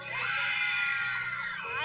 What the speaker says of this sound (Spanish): ¿cuál es el grito de las chicas para el grupo?